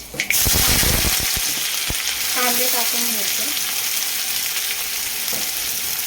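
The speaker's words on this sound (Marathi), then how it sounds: "कढीपत्ता टाकल्यानंतर आपल्याला त्याच्यामध्ये कांदे टाकून घ्यायचे" Onions hit hot oil with mustard seeds and curry leaves, setting off a sudden loud sizzle that holds as a dense, steady crackle, with a few knocks and stirring scrapes near the start.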